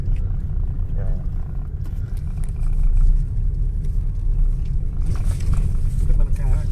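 A Hyundai Verna running on water fuel technology rumbles with a steady low engine drone that swells slightly midway, while people talk over it throughout.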